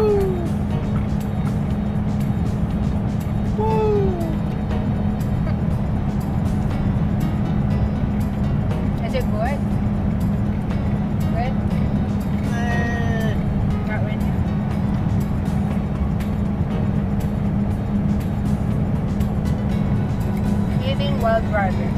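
A car on a road trip, steady low road and engine rumble from inside the cabin throughout, with voices talking over it.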